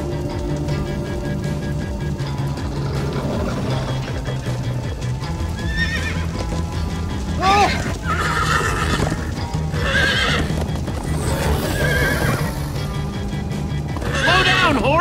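Horses gallop with steady clip-clop hoofbeats and neigh several times in the Minecraft Story Mode video game, set against a continuous musical score and action sounds.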